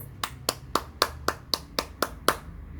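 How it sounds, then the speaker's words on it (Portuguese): Nine crisp, evenly spaced claps at a steady rhythm, close and clear, then silence. "Quem gostou, bate palmas."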